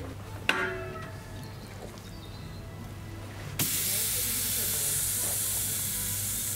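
Seasoned beef hits a hot grill and bursts into a loud, steady sizzle that keeps hissing evenly after a sharp onset, with no talking.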